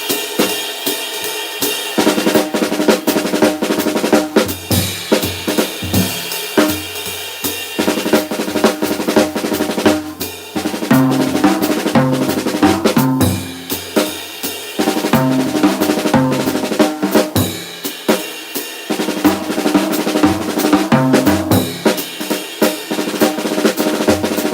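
A jazz drum kit plays Wilcoxon rudiment phrases in swing time, with crisp snare rolls and flams, cymbal crashes and bass drum hits, loud and close and continuing without pause.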